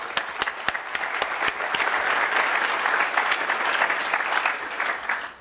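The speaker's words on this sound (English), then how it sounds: "I think that's worth a round of applause right there." Audience at a tech conference session applauding, a steady wash of many hands clapping that starts with a few sharp early claps, holds dense and even for several seconds, then fades out at the end.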